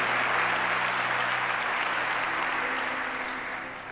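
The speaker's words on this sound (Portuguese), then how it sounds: "Pode dar uma salva de palmas forte" A church congregation claps loudly in a dense, sustained wave of applause that fades slightly toward the end, with no talking over it.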